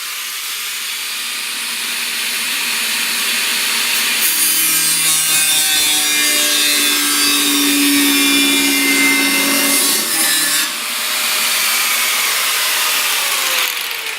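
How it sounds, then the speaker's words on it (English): A section of a car surge tank is cut off with a power tool, producing a loud continuous grinding, rasping cut that runs for most of the fourteen seconds with slight shifts in pitch and a brief dip near the end. "I need to cut off a section here so I can fit a backing plate in"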